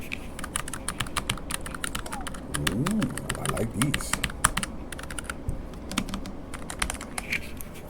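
Rapid clicking keystrokes of a Logitech G515 wireless keyboard being typed on, steady and close, with a person briefly speaking partway through.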